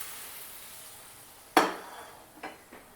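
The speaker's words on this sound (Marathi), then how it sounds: "आता ही फोडणी आपण ह्याच्यावर घालूयात" Hot tempering of mustard seed and asafoetida poured over a green garlic and fresh turmeric chutney, a single sharp sizzling burst that decays quickly, followed by two fainter crackles.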